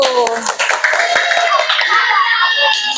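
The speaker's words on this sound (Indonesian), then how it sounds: "kita kasih aplaus untuk penampilan kelompok 1" A classroom audience applauds a student group's presentation, a burst of hand clapping mixed with children's excited voices and chatter, lively and close throughout.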